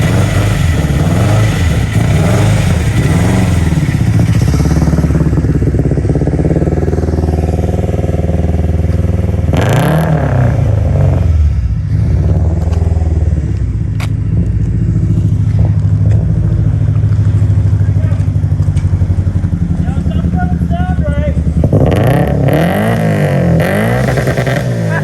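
A turbocharged Subaru EJ25 engine runs after starting, roughly and loudly up close, with rising and falling revs and clattering throughout, and no talk over it.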